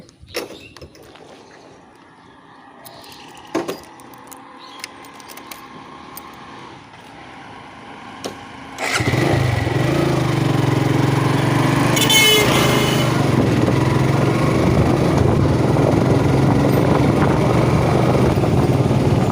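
A motorcycle engine starts up and runs steadily and loudly while riding along a highway, a constant close roar with wind noise and a brief higher whine partway through.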